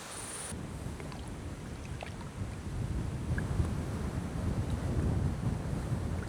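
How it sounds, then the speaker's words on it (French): Wind blowing steadily over a lake at Chancelade during a carp fishing trip, a constant rushing buffet on the microphone that grows stronger, with no talking. "Vous voyez, là, il y a toujours le vent."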